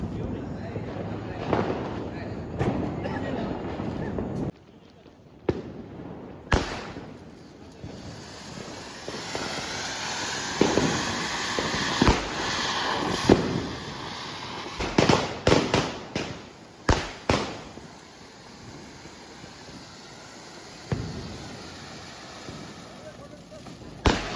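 Diwali firecrackers burst in a family celebration outdoors, sharp bangs going off irregularly one after another, some loud and close, with people talking in between.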